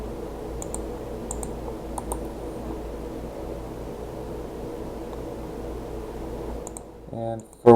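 A few sharp computer mouse clicks and brief keyboard taps sound over a steady low hum of room noise, spaced out, with a louder burst of activity near the end.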